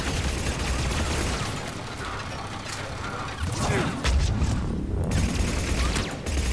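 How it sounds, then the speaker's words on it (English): Turret fire at Grissom Academy in Mass Effect 3, a dense, loud rattle of rapid shots and mechanical clatter that continues through most of the stretch with a brief dip midway. "So we got a turret there."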